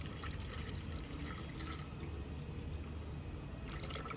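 Water pours steadily into a 3D printed passive vertical hydroponics tower, a continuous faint splashing trickle with no talk.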